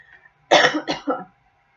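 A single close, harsh cough in three quick bursts, followed by silence.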